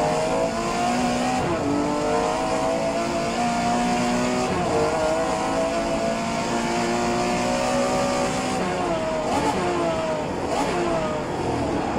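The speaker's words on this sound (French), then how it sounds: "une Porsche avec un moteur en porte-à-faux arrière" A Porsche 911 Carrera RSR 3.0L rear-engined race car screams at high revs in the racing video game rFactor 2, climbing through gears with brief dips at each shift, loud and continuous with no voices.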